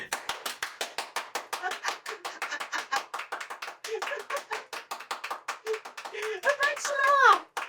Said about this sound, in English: just like hard out clapping